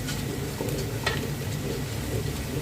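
Black cumin seeds sizzling in hot oil in a pan for khichuri, a close, steady crackling hiss with a few sharper pops scattered through it.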